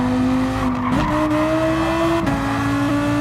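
A Lamborghini race car in Gran Turismo 7 at Autopolis, its engine holding a steady high tone that steps up through gear changes, with tires squealing and skidding throughout, loud and close with no talk.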